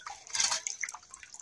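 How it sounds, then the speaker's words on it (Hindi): Water falls and drips at home during Diwali food preparation: a brief splashy burst followed by scattered faint drips, close and quiet, with no speech. "इधर की पानी कैसा गिर रहा है।"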